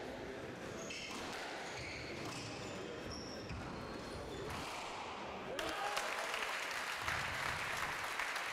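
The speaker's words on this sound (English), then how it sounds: "A bit of prolonged applause for the Swiss player" Light pinging of a squash ball in an indoor hall during a European championship match gives way to a crowd bursting into sustained, loud applause.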